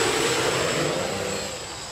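An octocopter with eight propellers driven by 2212 brushless motors flies nearby, its dense, steady whirring roar filling the air and easing slightly in loudness toward the end.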